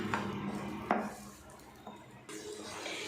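Banana paste being mixed into ghee in a pan on low flame for banana halwa: a few close spoon knocks and scrapes against the pan, separated by quieter gaps.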